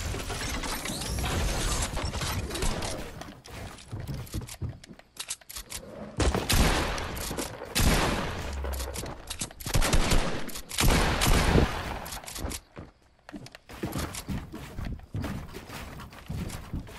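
Rapid bursts of gunfire in a Fortnite match, dense and continuous with mechanical clatter, loud and near, with brief pauses between volleys and no talking.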